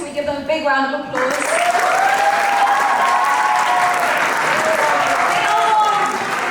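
A large school audience at an Eid party bursts into loud, sustained applause after a short stretch of speech, with cheering voices mixed into the steady clapping that continues to the end.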